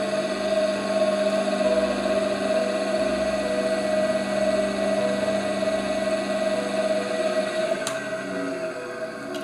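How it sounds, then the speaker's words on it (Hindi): A 2 HP electric motor runs on direct mains supply, giving a steady, loud hum with a constant whine that holds evenly throughout, then a brief click near the end. "ये 2 HP का मोटर है दोस्तों। आइए इसे सप्लाई देते हैं, डायरेक्ट सप्लाई, और इसे ऑन करते हैं।"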